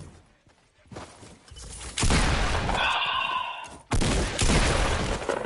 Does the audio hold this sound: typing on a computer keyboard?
no